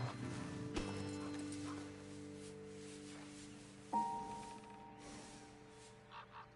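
Horses in the Western video game Red Dead Redemption 2 give soft hoof clops and a brief snort or whinny, fairly faint over a sustained musical drone, with no talking.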